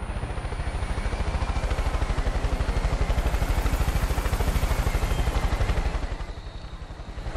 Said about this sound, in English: Where's that helicopter going?